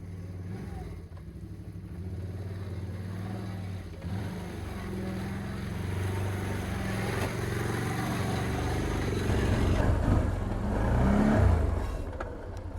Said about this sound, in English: The sound of this motor, it's got a good sounding V-twin.